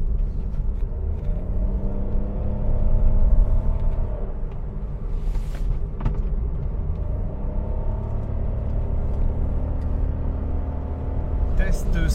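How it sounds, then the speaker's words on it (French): Steady low rumble of road and engine noise inside a car cabin cruising at 110 km/h on a French motorway, constant and dense, with a brief hiss of passing air midway and a voice speaking over it. "micro d'ambiance sur l'autoroute. On est à en fait 68 décibels de moyenne"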